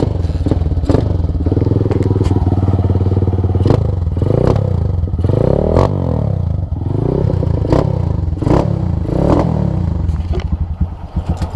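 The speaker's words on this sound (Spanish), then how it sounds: "Vamos a probar qué tal suena." A motorcycle fitted with a handmade competition exhaust revs loudly and close up, its engine rising and falling in repeated blips over a steady idle, with no voices.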